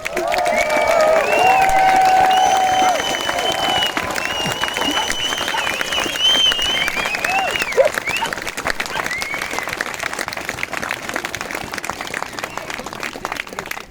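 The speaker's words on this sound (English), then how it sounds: "I want you guys to give yourselves a massive, massive cheer of congratulations" Audience bursting into loud applause and cheering, with dense clapping strongest in the opening seconds and then easing into a steady, slightly thinner ovation with scattered whoops.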